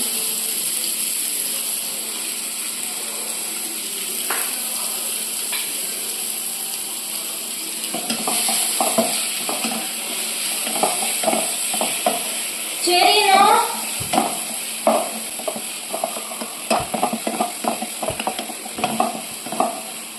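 Onions frying in a pan on a home stove, a steady sizzle with rhythmic scraping and clinking of a utensil as they are stirred, growing busier in the second half.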